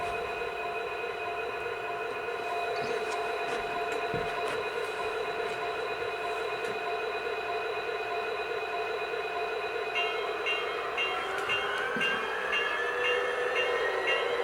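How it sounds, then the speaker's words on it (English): A small N-gauge model train under DCC control runs steadily with a constant electric whine and hum, faint clicks over the track, a rising tone near the end. "Let's see if we can start the N-gauge train first."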